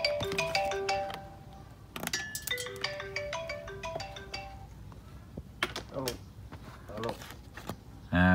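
A phone ringtone plays a bright electronic melody of repeated tones in short bursts, with a person talking over and between the phrases.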